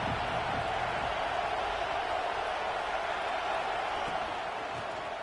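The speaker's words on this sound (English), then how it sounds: "This crowd ready to make its presence known." Stadium crowd in a college football video game makes a constant, broad roaring wash of noise at moderate loudness, unbroken throughout, with faint indistinct voices inside the din.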